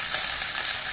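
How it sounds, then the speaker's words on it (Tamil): Chillies, onion, garlic, cumin, coriander leaves, curry leaves and coconut sautéing together in a pan: a steady, bright, hissing sizzle with no pause for a brief moment. "மிளகாய், வெங்காயம், பூண்டு, சீரகம், கொத்தமல்லி இலை, கருவேப்பிலை, தேங்காய், எல்லாம் மொத்தமாக வதக்கிடணும்."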